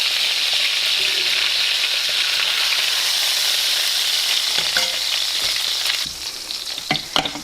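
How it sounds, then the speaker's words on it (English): Turkey searing in hot oil in an Instant Pot: a loud, dense, continuous sizzle, then a few knocks and scrapes near the end as the sound eases. "when it's been seared on both sides, I'll put it into my pot"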